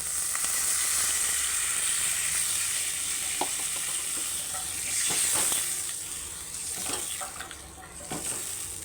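Fried spice masala for a thin Bengali potato and omelette curry keeps sizzling steadily in the pan after water is poured in, with a few sharp stirring clicks and the hiss easing over time.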